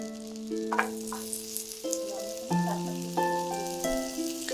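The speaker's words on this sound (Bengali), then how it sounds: "বাটারটা মেল্ট হয়ে যাচ্ছে। এ পর্যায়ে আমরা দিয়ে দিব পেঁয়াজ কুচি।" Chopped onion fries in melted butter in a pan, a soft crackling sizzle under clinks and scraping, with a few scattered pops and no talking.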